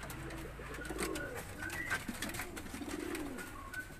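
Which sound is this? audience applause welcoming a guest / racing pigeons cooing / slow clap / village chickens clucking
racing pigeons cooing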